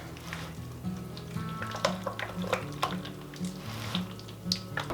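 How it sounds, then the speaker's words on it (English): A hash brown casserole mixture with melted butter is stirred together in a bowl, giving faint soft wet squishes and scrapes at close range. "Stir this all together."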